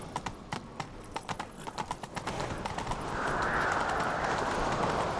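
Horses gallop in a chase in The Witcher 3, rapid hoofbeats clopping clearly before a rising wash of rushing wind and ambient noise takes over.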